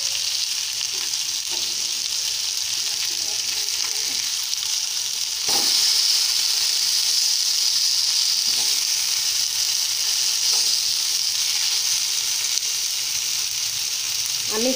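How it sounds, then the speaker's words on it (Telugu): Fish pieces fry in oil while being flipped one by one; a close, steady sizzle swells louder midway, punctuated by occasional spatula taps and scrapes, with no voices. "ఇలా అన్ని చేప ముక్కల్ని ఇలా తిప్పి వేసుకోవాలి."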